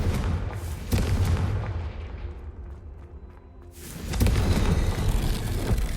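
Confringo blasting spell in the Hogwarts Legacy video game, a loud booming explosion that fades to a low rumble, then bursts again into a second dense blast.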